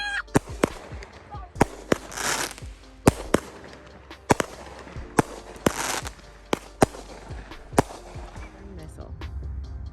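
Sky Dancer consumer fireworks going off at a baseball field, a rapid series of sharp crackling pops and bangs with whistling bursts spread across the clip, fairly close, with voices talking faintly underneath.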